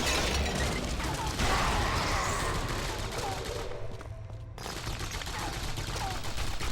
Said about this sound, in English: we're being sniped at from across a rather hefty chasm